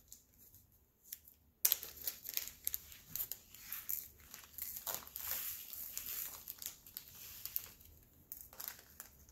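A small plastic bag of diamond painting drills in colour 309 being opened up close: a sudden crisp crinkle, then several seconds of rustling and crackling plastic that fades toward the end.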